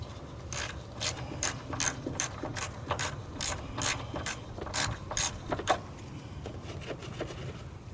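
Ratchet clicking in quick bursts while tightening a motorcycle chain adjuster during a chain adjustment, close and fairly loud with short pauses between runs of clicks, no talking.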